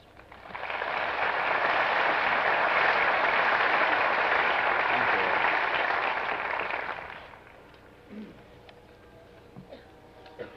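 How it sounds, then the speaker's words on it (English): An audience at a college commencement gathering at Ball State applauds. The dense, even clapping lasts about six seconds and then fades, leaving a quiet room with a few small noises. "Now your applause, please."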